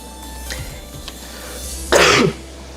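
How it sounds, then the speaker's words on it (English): A single harsh, allergy-related cough bursts out close by after a couple of quieter throaty sounds over a low background hum. "I've been coughing for a while now."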